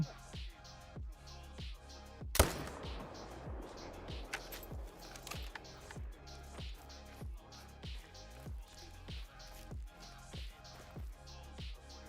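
A single sharp gunshot in a hunting video game aimed at a pheasant, a loud crack with a short decaying tail, set against a steady rhythmic pulsing background of game music.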